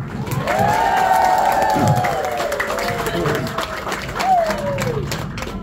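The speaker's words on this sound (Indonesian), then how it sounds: "Tepuk tangan" A lively audience claps, cheers and whoops as Pak Mike is called up, loud continuous clapping mixed with high shouted voices and cheering rising and falling.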